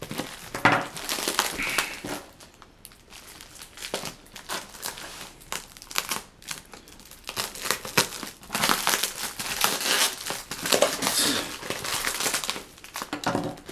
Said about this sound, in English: it's encased in the bubble envelopes